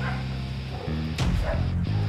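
A police sniffer dog barks a few times close by, short sharp yelps over a steady low engine-like hum, during a drug search around a van.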